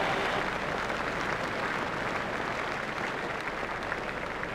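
Cricket crowd at an Australia vs England one-day match applauding a bowler's delivery, steady dense clapping from a large stadium audience sustained throughout with no talk over it.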